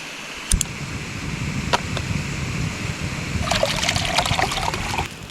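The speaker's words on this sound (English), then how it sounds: "I can hear that the creek's pumping a bit harder." Creek water rushes and trickles in a steady flow nearby, with a few splashes and clinks on top, no talking.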